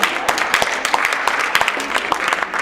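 An audience claps at a speaking event, a lively burst of many hands clapping close together at a moderate level, with some voices mixed in.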